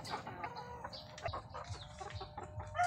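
Kelso Claret gamefowl chickens cluck in short, scattered bursts close by, overlapping with general farmyard clatter and low background noise, with no one talking.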